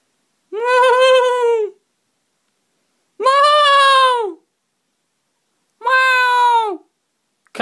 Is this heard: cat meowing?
yes